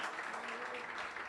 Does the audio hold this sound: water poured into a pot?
no